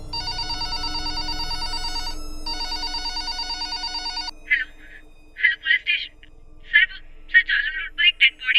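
A telephone rings at night in a police station, a steady electronic bell trill for about four seconds, then a run of shorter broken warbling rings, close and clear with no talk.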